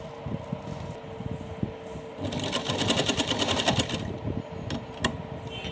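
A sewing machine stitches a small summer dress for a Laddu Gopal figure, running in a fast, even buzz. It starts with short bursts and becomes a louder continuous run in the middle of the clip.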